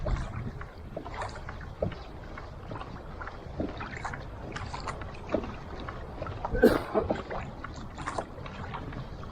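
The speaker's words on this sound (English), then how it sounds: "Just keep paddling and you'll get through there." Kayak paddling through water while bass fishing, rhythmic splashes and drips from paddle strokes with wind buffeting the microphone, close and continuous with a louder splash midway, no talk.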